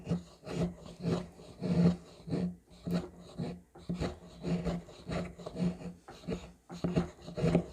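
A Swisstech Stahlern fixed blade knife carves shavings from wood in a run of short rasping scrapes, close and fairly quiet, repeating in an uneven rhythm.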